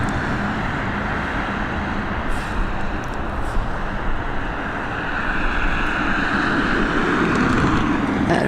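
Air France and Aer Lingus jets taxi toward the north runway at Dublin Airport, a loud, continuous engine rumble and roar that swells slightly toward the end, with no voices.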